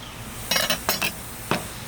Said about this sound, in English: let's do a little chopping.